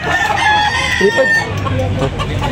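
Chickens and roosters at a busy cockfighting-bird market in Tabunok, Talisay, Cebu, with crowing and clucking over a steady crowd murmur, some voices talking nearby.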